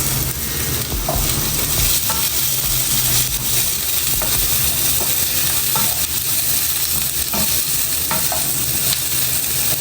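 Finely chopped onions sizzling loudly in a pan, a constant close frying hiss broken by the scrape and clink of a spoon stirring them every second or so.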